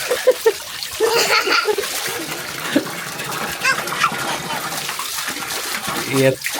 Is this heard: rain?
no